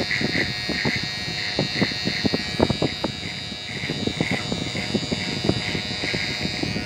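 Electric clipper buzzing steadily while shaving off a customer's mustache in a barbershop, close and continuous with short rhythmic strokes and scraping bursts, no talk.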